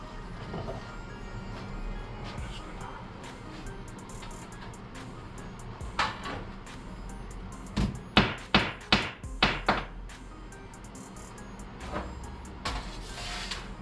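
A hammer taps out a dented edge with a quick run of five or six sharp, close strikes after a few scattered lighter taps, in a quiet shop.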